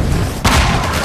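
A thrown-back grenade bursts in Half-Life 2 combat, a single sharp boom hitting midway through the short clip over a steady background of gunfire and rumble.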